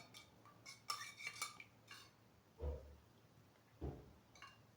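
Utensil scraping and clinking against a bowl while stirring a mix of melted butter and a tea glass of vegetable oil for a layered börek topping; a few scattered light taps and clatters, close and soft, with two duller low knocks.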